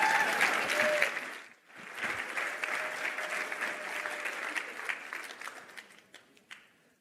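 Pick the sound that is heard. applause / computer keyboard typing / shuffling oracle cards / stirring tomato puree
applause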